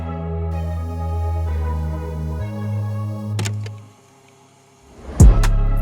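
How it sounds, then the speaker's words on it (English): Tape start effect on an analog-style trap beat, with the sound sliding up in pitch as the tape gets up to speed, then bass and melody resuming loudly. "I added this FX, which is just a tape start sound"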